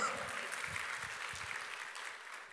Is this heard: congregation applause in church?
yes